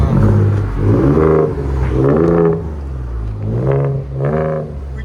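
A 2018 Ford Raptor's 3.5L twin-turbo V6 with a dual-in, dual-out muffler delete revs loudly and close up, its engine note rising and falling in three or four distinct throttle blips.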